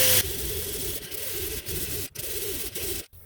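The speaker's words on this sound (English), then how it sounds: "I'm going to use a roll-lock disc. It's a white one. It's for aluminum" A white roll-lock disc sands the aluminum top of a Holley 1940 carburetor from a 1966 Mustang at low speed and light pressure, making a soft, steady scratchy rubbing with brief pauses.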